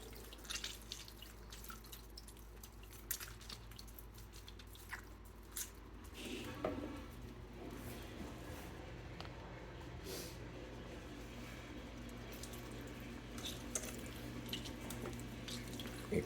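Lemon juice drips and trickles through a strainer, producing soft wet drips and squishy squeezing sounds, faint and close, continuing irregularly throughout.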